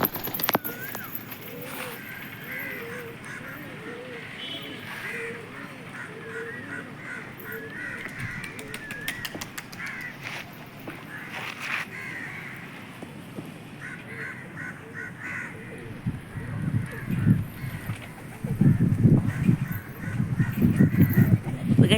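Domestic pigeons gather at a backyard loft and coo softly in a repeated rhythm, with occasional wing flaps, close-up clatter and some background noise.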